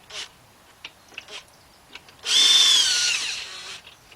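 Power tool loosening cylinder head bolts on a Ford Fiesta: light clicks and short taps, then one close, loud whirring burst lasting about a second and a half before stopping.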